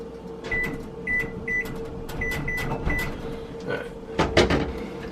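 Kitchen oven door opening and closing with metal sheet pans being handled, a series of clanks, clicks and a heavier thud near the end over a steady background hum.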